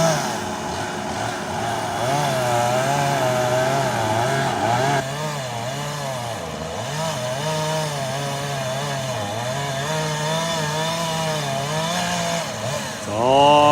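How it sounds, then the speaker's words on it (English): A chainsaw cuts into a cedar tree near power lines, its engine whining steadily and dipping and surging in pitch as the chain bogs and revs under load, close and continuous. "bind that saw up if he's not careful."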